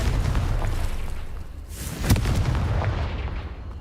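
A burst from the Confringo spell in Hogwarts Legacy lands as a single sharp boom over a dense rumbling game soundscape, with no voices.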